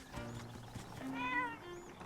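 Cat meows from Zelda: Echoes of Wisdom, a couple of short tonal mews rising and falling over a soft game backdrop, moderately close and clear with no talking.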